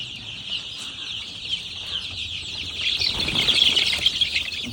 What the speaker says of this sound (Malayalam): പതിനഞ്ച് ദിവസം പ്രായമായിട്ടുള്ള കോഴിക്കുഞ്ഞാണ്